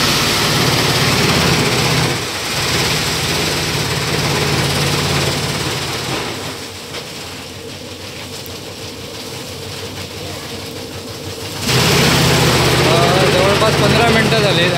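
A rice threshing machine runs close by as paddy bundles are beaten out, giving a loud, steady mechanical drone that dips and lightens through the middle before returning at full strength.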